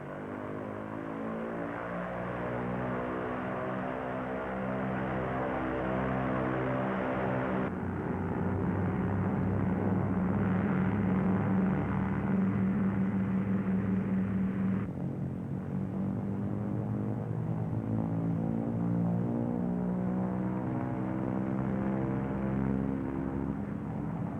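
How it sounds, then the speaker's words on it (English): Twin engines of a P-38 Lightning running up with throttles advanced against held brakes, a sustained droning propeller roar with strong engine harmonics that shifts pitch twice, loud and steady throughout, no voices. "Booster pumps on, toe brakes held, throttles advanced to get maximum allowable manifold pressure"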